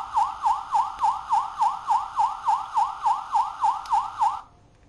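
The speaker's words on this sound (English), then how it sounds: "If you press this button, he does have the continuing siren" Electronic siren from a Transformers Universe Hardhead toy, a rapid wailing tone that rises and falls about fourteen times in an even rhythm, close and clear, then cuts off abruptly.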